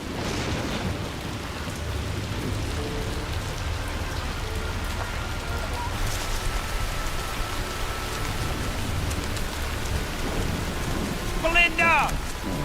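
Steady rain falls throughout a film scene, with faint low rumbles that may be thunder, and a brief voice near the end.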